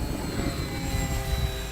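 An Avios Zazzy electric ducted-fan RC jet with a carbon fiber prop flies past, giving a steady loud whining roar that holds at an even level throughout.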